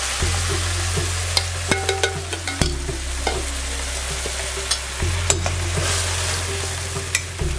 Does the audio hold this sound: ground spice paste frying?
yes